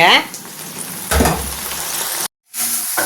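A cooked mixture being stirred in a frying pan, with close sizzling and scraping that cut off abruptly for a moment and then resume.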